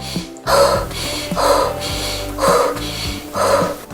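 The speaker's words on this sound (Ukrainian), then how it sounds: "дихаємо животом і дихаємо досить швидко" Four quick, forceful breaths about a second apart, a rapid rhythmic belly-breathing diction exercise, heard over a soft steady hum.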